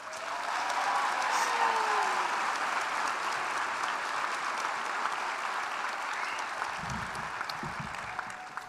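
Sustained, dense applause from a large audience at a university graduation ceremony, continuing for several seconds at an even level, with a few low thumps and faint voices near the end.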